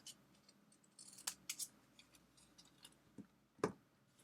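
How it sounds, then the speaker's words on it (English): Scissors snip a paper stamping label in half, giving a few quiet, sharp crisp cuts spaced irregularly over a few seconds with soft handling noise between them. "So I would snip it in half."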